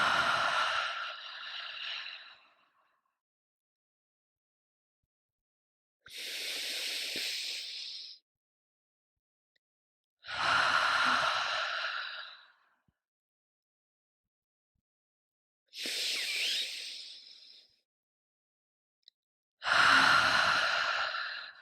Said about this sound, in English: let's take 3 deep breaths in through the nose,